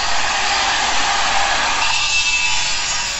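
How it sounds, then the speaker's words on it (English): A welding machine under test gives a loud, continuous harsh buzzing hiss that drops slightly in tone partway through, close and alone without voices. "Test the welding machine."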